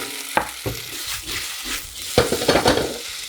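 Radish cake fries in hot peanut oil in a hawker-style wok, with a bright continuous sizzle broken by sharp scraping stirs and spatula clanks.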